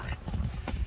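A horse's hooves clip-clop in a quick, close rhythm of several sharp strikes over a brief moment, with a faint voice underneath.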